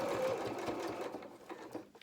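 A sewing machine stitches down felt flower petals in a quick, soft mechanical patter that tapers off toward the end, close and quiet.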